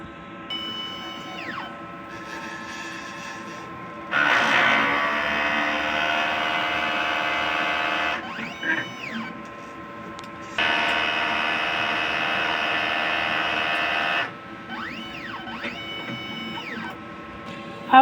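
A printer runs a print head cleaning cycle: two long, loud stretches of steady mechanical whirring, separated by quieter whining tones that rise and fall as the carriage moves, with no voices.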